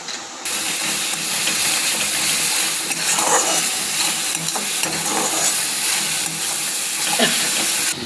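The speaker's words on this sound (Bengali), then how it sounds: "একটু জল দেওয়া হচ্ছে এখন।" Water poured into frying spice paste for a vetki fish curry hisses loudly and steadily, with steamy sizzling and a few stirring scrapes running throughout, no voices present.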